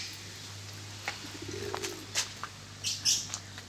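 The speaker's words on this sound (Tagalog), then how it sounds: "Pigeon. You see the pigeon?" A soft, low pigeon coo rolls under faint chirps and a few wing flutters, fairly close against a steady background hum.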